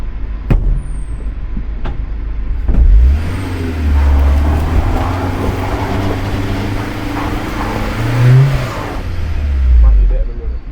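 A Nissan Micra on road tyres at road pressure drives off-road, its engine rising and falling in a steady low drone with a couple of louder surges, close up and alone.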